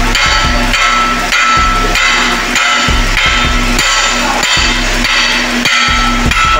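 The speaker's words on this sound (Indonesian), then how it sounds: "Nah itu dipasangkan, kita pukul-pukul palu." Repeated metal hammer blows in a ship workshop as a propeller is fitted: loud, evenly spaced strikes, roughly two per second, ringing close up and continuing steadily throughout.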